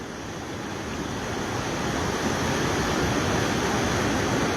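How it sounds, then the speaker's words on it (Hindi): Floodwater pouring toward the Banas river near Sawai Madhopur rushes in a broad, roaring wash, a steady dense noise that swells slightly and stays loud and continuous, with no voices. "बनास नदी में जा रहा है, ये पूरा पानी बनास नदी में बह रहा है।"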